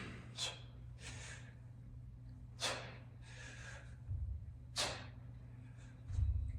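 Sharp, audible breaths from a person demonstrating lifting bracing technique, four or five quick inhale-exhale bursts spaced a second or two apart, close and clear over a low steady hum.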